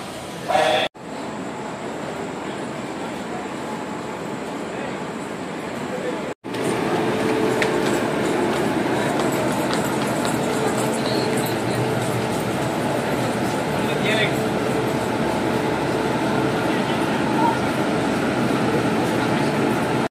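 A passenger train rumbles steadily at an Indian railway station platform, with rolling wheel noise throughout and someone talking in Tamil over it.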